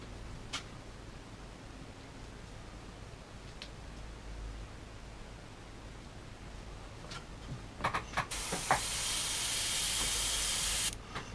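An airbrush sprays paint onto a Tamiya 1/12 scale Honda CB750F motorcycle model; after a quiet stretch with a few clicks, a steady close hiss runs for about three seconds.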